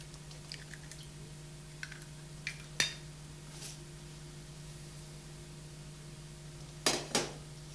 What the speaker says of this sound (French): Cassez les 8 œufs.